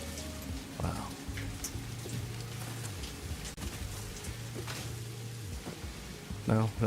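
Rain falls in the game Satisfactory, a constant hiss of drops layered over low humming factory machinery, with a couple of short vocal sounds briefly breaking through.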